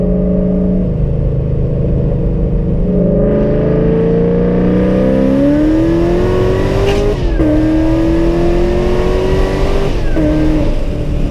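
A Ford Mustang GT500 pulls hard on the street, its engine note climbing steadily in pitch. It drops sharply at two quick gear shifts before climbing again, loud and close the whole way.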